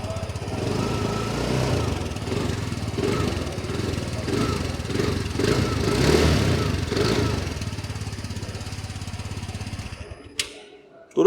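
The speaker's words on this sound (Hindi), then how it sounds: "तो दोस्तों ये आप लोगों ने स्कूटर की जो आवाज़ है वो भी सुन ली है।" A TVS Jupiter 125 scooter (2023 Smart Xonnect model) idling close up, with a steady, throbbing single-cylinder exhaust note that rises slightly midway, then cuts off abruptly near the end.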